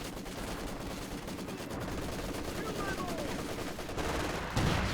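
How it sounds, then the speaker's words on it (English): Heavy machine gun fire in the video game Company of Heroes 2, with rapid dense bursts of automatic gunfire mixed with other battle sounds, loud and continuous. "We're taking heavy machine gun fire!"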